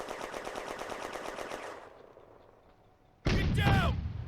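A tank's machine gun in a June 1940 battle video game fires a rapid steady burst for almost two seconds, fades into quiet rumble, then a sudden loud blast or shot with a sharp ringing tail.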